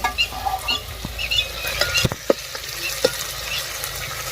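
Hot oil crackles and sputters with sharp pops and occasional clinks of a spoon as spices are tempered for leftover flatbread, close and lively, no speech.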